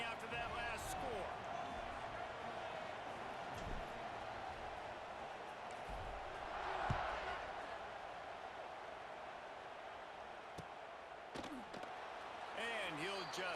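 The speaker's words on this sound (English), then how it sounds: "this crowd is buzzing after that last score" Steady crowd buzz in the College Football 26 video game, a dense stadium murmur running under a commentator's voice, swelling briefly near the middle with sharp thuds and slaps scattered through.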